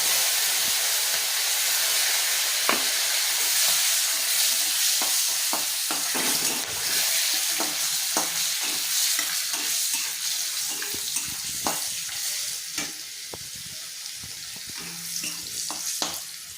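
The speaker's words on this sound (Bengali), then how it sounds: "পেঁয়াজগুলো আমার ভাজা হয়ে গেছে।" Onions and whole garam masala fry in hot oil, a steady close sizzle and hiss with scattered stirring scrapes and clinks against the pan throughout.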